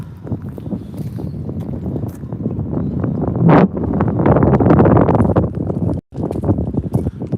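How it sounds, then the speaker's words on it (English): Strong wind buffets the microphone at a marina on the coast, a loud, close, continuous low roar of wind noise with gusty surges and one abrupt dropout near the end. "it's way too windy and you probably won't be able to hear me say anything"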